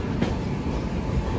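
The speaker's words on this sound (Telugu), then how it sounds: "సికింద్రాబాద్ ట్రైన్ ఇది." Secunderabad-bound train passing on the next track, a steady low rolling rumble with faint clickety-clack of wheels, continuous and close, no voices.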